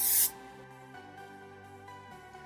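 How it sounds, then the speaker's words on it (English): A brief hiss of hairspray from an aerosol can at the start, about a quarter second long, followed by faint room tone. "Spray it down."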